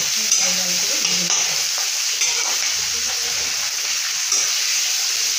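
Chopped onion and garlic frying in a pan, a loud steady sizzle close by with occasional stirring scrapes and soft bubbling throughout, no voices.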